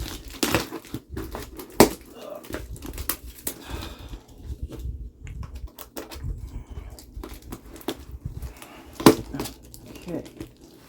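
Cardboard box being cut open and unpacked, holding a Stromberg M18002-A 6-inch general purpose alarm bell: scattered crinkling, scraping and a couple of sharp knocks, with talk over it.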